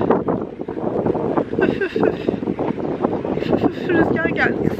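Gusty wind buffets the microphone in a steady low rumble, with people talking over it throughout.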